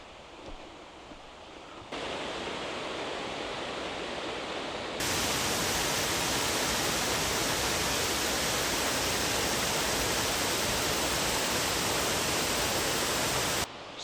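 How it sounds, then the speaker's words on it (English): A stream runs down a valley from a waterfall on the Isle of Mull, making a steady broadband rush that grows louder and fuller partway through and then holds constant. "See the stream running down the valley there, just from the waterfall."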